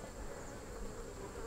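Honeybees buzz steadily in a hive during a winter-prep inspection, a soft, even drone close by with no voices.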